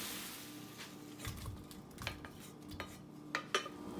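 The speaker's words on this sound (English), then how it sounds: "empty all my vegetables into this frying pan" Chopped vegetables tipped from a container into a frying pan for an Italian sausage and lentil stew, giving a few close clattering, scraping knocks of utensil and cookware spread over a few seconds with no talking.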